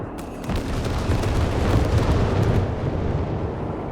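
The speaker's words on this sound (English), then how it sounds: "calling in the artillery overwatch" An artillery overwatch barrage in the WWII strategy game Company of Heroes 3 lands as a continuous heavy rumble of booming explosions, loud and dense for the full stretch with no talk over it.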